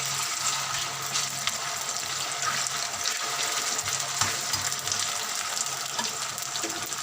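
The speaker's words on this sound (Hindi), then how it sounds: "यहाँ हमारी मैक्रोनी बॉईल हो रही है।" Macaroni boiling in water in a pot, a steady hiss and bubbling wash with faint crackle, moderately close, constant throughout with no talk.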